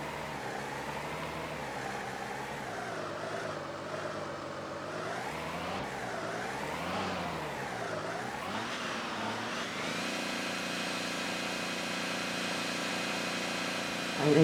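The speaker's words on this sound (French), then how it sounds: "il a du mal le moteur." A Paris fire brigade engine's motor labours at low revs with a wavering, rising and falling drone, then settles into a steadier, brighter whine near the end.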